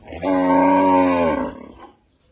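A Sahiwal cross bull lets out a single loud, drawn-out moo close by, rich and harmonic, lasting about a second before fading into quiet.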